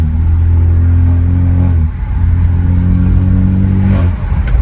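A truck engine with straight-piped exhaust revs steadily at close range, dips briefly, then revs again in a sustained roar with no voices.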